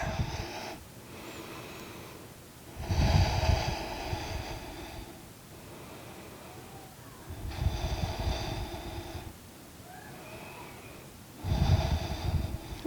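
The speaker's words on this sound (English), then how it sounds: "Taking a couple of deep breaths." Deep, slow breaths during a reclined Pilates twist, drawn in and pushed out in three long, loud bursts a few seconds apart, with quiet pauses between, close to the listener.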